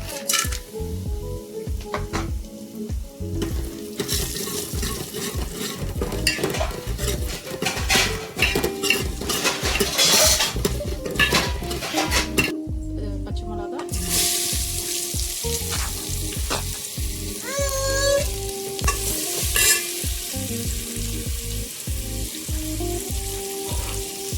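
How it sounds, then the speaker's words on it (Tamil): Onion, green chilli, ginger and curry leaves sauté in a pan for a green peas kurma, giving a loud, steady sizzle and fry with frequent spatula scrapes and metal clinks throughout, no voices. "ஆனியன், பச்சை மிளகாய், இஞ்சி போட்டு நல்லா சாட்டே பண்ணிக்கணும்."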